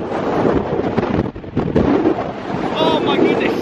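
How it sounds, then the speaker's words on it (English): Strong wind buffets the microphone on the summit of Ben Hope in Scotland, a loud continuous roaring rush with gusty surges throughout. "The wind is another level up here."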